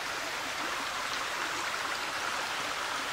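A mountain stream at Gold Mine Run flows in a steady, unbroken rush, with broad hiss and burble holding at an even level throughout and no voices.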